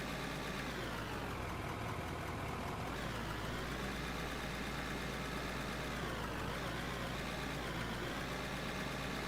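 Heavy truck engine idling and rumbling steadily in the mining game Out of Ore, a continuous loud drone throughout with a shift around three seconds as dirt is dumped from the bed.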